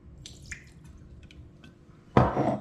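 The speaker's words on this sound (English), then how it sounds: "some sesame oil and some soy sauce. I'm just going to add these into my jug" Sesame oil and soy sauce are poured into a jug, giving faint drips and small trickles, then a brief louder splash and clatter at the end, close by.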